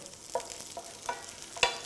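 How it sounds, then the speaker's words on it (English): Onions sizzle softly in oil in a pan, a faint steady crackle with a few light clicks of stirring. "And you can hear the pan sizzling."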